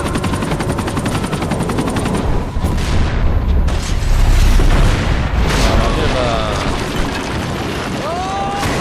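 Helicopter rotor noise and heavy gunfire and explosions in the Max Payne 3 video game, loud and dense with booming blasts and rapid shots over a whirring drone, with a voice briefly speaking.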